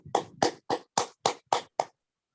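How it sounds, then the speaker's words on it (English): Seven sharp, evenly spaced hand claps from webinar participants clapping for themselves, close and fairly loud, ending abruptly into silence. "And clap for yourself."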